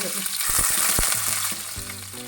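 Curry leaves sizzle and crackle loudly in hot oil, a steady frying hiss with a few sharp pops, no voices.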